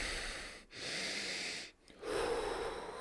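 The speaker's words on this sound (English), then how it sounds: "Take a few deep breaths with me." Slow, deep breathing for calming breath work, each long, airy inhale and exhale close and clear, separated by brief pauses, with a faint low hum near the end.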